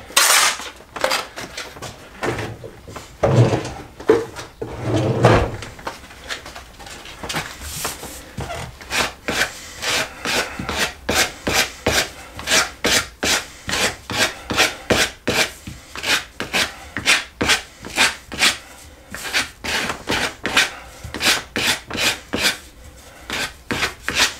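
A hand file rasps along the metal edges of a motorcycle kickstand extender in a long run of rapid, regular strokes, close and clear, with a few scraping handling sounds early on and no talking.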